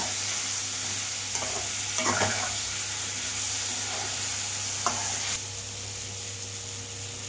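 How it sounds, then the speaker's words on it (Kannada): Spicy marinated paneer is stirred in a hot pan, with a continuous sizzle under a few scraping strokes of the spoon early on, then the frying hiss thins and quiets toward the end. "ಇದನ್ನು ಫುಲ್ ಮಿಕ್ಸ್ ಮಾಡ್ಕೊಳ್ಳೋಣ"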